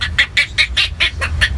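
A person imitates a duck quacking, giving about eight short, evenly spaced nasal quacks in a steady rhythm, close up and clear with nothing else heard.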